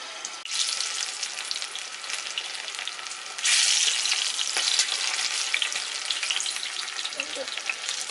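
Corn frying in hot oil for a crispy Koliwada-style snack, a dense continuous sizzle and crackle up close that swells louder partway through and keeps bubbling steadily to the end.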